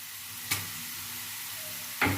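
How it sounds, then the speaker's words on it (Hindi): Whole spices fry in hot oil with lightly browned onions in a pan for beef pulao, giving a steady soft sizzle with two brief stirring scrapes, close and alone without talk. "अब हम इसमें ये खड़े मसाले डाल देंगे"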